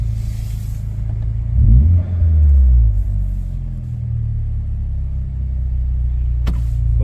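Chevy Cruze engine with a downpipe and stock exhaust, heard idling in neutral with a deep steady rumble and one brief rev swelling early on, close-up and without voices.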